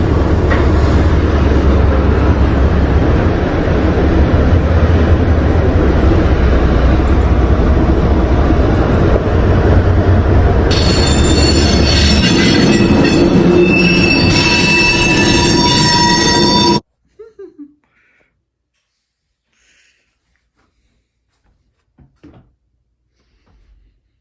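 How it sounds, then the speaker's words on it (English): Locomotive G908 shoves a freight train along tracks on Marler Street in Gainesville, near an old brick factory. A loud, close, continuous rumble of rolling cars carries high wheel squeals late in the pass, then cuts off to near silence with faint scattered sounds. "G908 shoves their train in the foreground"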